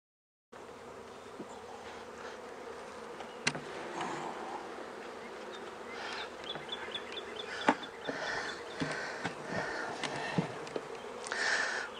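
Honeybees buzzing in a dense, steady drone close by, with individual bees whirring past now and then.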